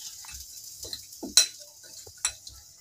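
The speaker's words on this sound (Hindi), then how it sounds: "अब मैं इसमें ये चटनी डाल दूंगी और इसे मैं चम्मच से मिक्स करूंगी" A spoon stirs chutney into a sweet potato chaat in a bowl, giving light scattered clinks and taps that rise now and then into sharper metallic knocks over a quiet background.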